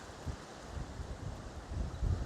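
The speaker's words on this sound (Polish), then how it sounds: "A wieje tutaj okrutnie, jest tak mocny wiatr teraz." Strong coastal wind near castle ruins in Salcombe buffets the microphone in low, gusty rumbles, steady and noisy with no voices.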